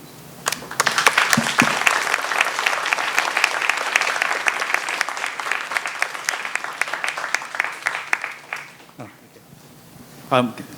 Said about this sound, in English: would I give a round of applause again?